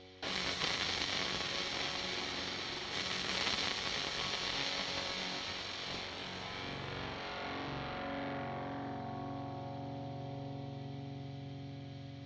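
A Soldano tube amp, or an amp plugin modelling it, plays distorted electric guitar in sustained chords and riffs, loud and continuous, with a long ringing decay toward the end.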